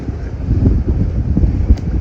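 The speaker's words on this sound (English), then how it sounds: "That gust hit us" Rough, blustery wind gusts buffeting the microphone on a sailing boat approaching Cairns, a steady low roar that swells in gusts with no talking.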